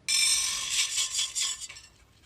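Roasted lentils pour from a pan into another pot as a dense, bright rattling patter lasting about two seconds, then trailing off. No one speaks.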